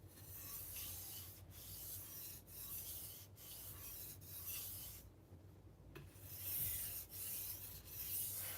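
Steady abrasive rasping of a 52100 steel knife blade being sharpened on a stone, including its rounded belly, continuous close strokes with brief pauses and no talking.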